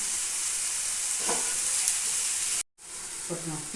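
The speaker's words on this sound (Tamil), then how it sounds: "கத்திரிக்காய் போட்டுக்கோங்க கத்திரிக்காய் நல்லா வதங்கட்டும்" Brinjal sautés in a pan with onion and salt, giving a constant close, bright hiss of frying broken by a couple of stirring knocks and one brief drop to silence.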